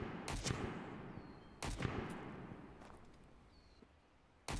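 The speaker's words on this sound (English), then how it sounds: "that guy's laying down some suppressing fire" Video game gunfire in a realistic survival shooter, three sharp bursts of suppressing fire a second or two apart, fairly distant and followed by fading echoes, no talking.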